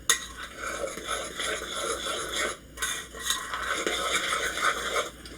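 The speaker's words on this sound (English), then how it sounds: "Now we're going to stir it up." Cornbread batter of plain cornmeal and milk being stirred in a bowl, a steady scraping, clinking swirl of a utensil against the bowl, close and fairly continuous with a brief pause midway.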